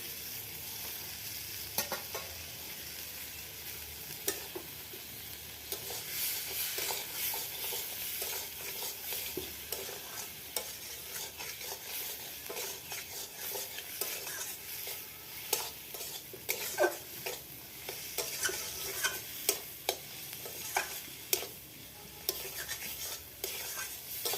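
Tomatoes go into a pan of frying onion-garlic masala and are stirred through, a steady soft sizzle running under repeated scraping clicks of the spoon against the pan, close and fairly quiet.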